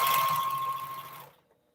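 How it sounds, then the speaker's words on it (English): A sewing machine stitches a 1/4 inch quilt seam on a postage stamp quilt top, a short close whirring run with a steady tone that stops abruptly near the end. "sew 1/4 inch seam"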